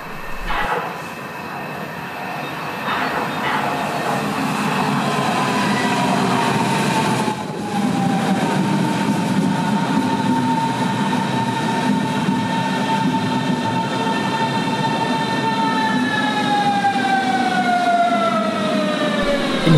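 Berlin S-Bahn S75 train running toward Hohenschönhausen, heard as a loud, steady roar of rolling wheels and motor with rising and falling whine tones, continuous from start to end.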